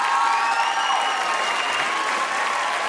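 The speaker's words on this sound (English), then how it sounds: "Give him another round of applause as we bring him over." Audience applause at a television talent show, a dense, steady wash of clapping from a large crowd with faint whistling tones above it, continuous throughout without a clear voice.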